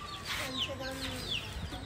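A broody desi hen clucks close by in short, repeated throaty calls, with a few higher chirps mixed in against a light outdoor background.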